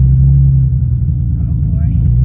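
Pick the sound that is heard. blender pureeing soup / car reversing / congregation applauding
car reversing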